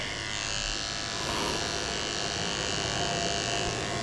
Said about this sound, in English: Shaving out the corners of her eyes very carefully with a 40 blade